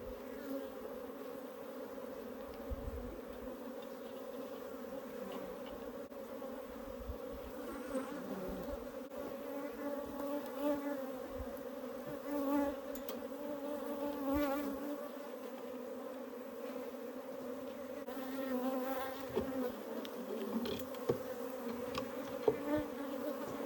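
Honey bees buzz steadily in an opened beehive with drawn comb and brood frames during a drone-comb mite check, a dense continuous drone close by with small swells in loudness and no voices.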